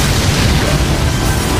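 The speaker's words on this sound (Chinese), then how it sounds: "随后进行引爆。" Bombs fitted to the joints of a giant anime mecha detonate in a loud, continuous rumbling blast that fills the whole moment, with no voices over it.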